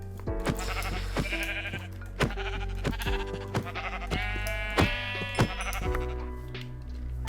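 Repeated sheep bleats in Minecraft sound over a steady game-music backdrop, with sharp percussive hits scattered throughout.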